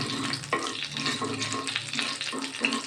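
Whole spices for phoron sizzling in hot oil in a pan, a continuous close crackle with a few soft stirring scrapes, moderate level and no talking.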